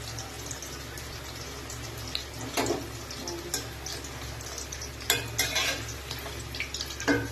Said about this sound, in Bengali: কড়াই কিন্তু ছেড়ে দিয়েছি এক লট মানে ফার্স্ট লটটা কিন্তু ছেড়ে দিয়েছি মোটামুটি এটা ভাজা হয়ে যাক